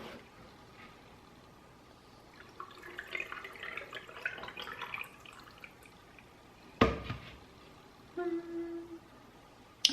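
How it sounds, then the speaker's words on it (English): Pickling brine poured into a jar packed with eggs for Kansas-style pickled eggs, a soft trickling, dripping flow in the middle, then a sharp knock and a few faint clinks near the end. "Now we're gonna take the brine. We're just gonna pour it in."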